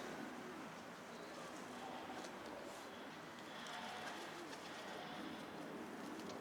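Pigeons cooing softly over a steady wash of outdoor noise, with faint bird calls scattered throughout.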